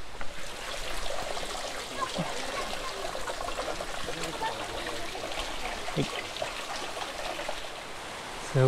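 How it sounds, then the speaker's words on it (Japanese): Steady rushing water of a waterfall near Lake Haruna, Gunma, Japan, fills the scene, a constant broadband wash with faint voices murmuring underneath. "すごい綺麗な滝だね。"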